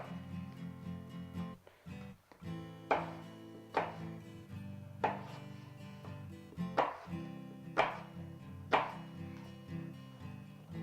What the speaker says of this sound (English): I'm just going to go through and cube your apples up